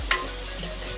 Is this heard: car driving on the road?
no